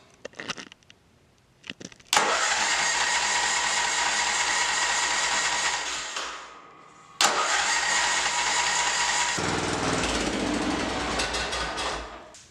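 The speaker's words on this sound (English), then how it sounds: "Once it has run for 2 minutes, you can turn the mower off" A lawn mower engine cranks with a couple of brief pulls, then fires and runs at a steady loud roar, cuts out briefly, restarts and keeps running close by.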